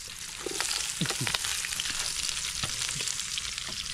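Onions sizzling in hot oil in a pan, a steady broadband frying hiss with occasional stirring clicks, close and continuous with no talking.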